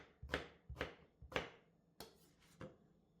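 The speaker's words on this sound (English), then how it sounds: "Continue until all the eggplants have been cut into pieces." A knife chops eggplant on a cutting board in five quick, faint, close thuds, evenly spaced at first and then slightly irregular, with no talking.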